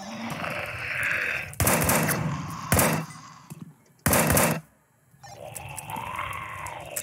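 Gunfire in a zombie shooter video game: several loud, abrupt bursts of shots with quiet gaps between them, set against a constant game ambience.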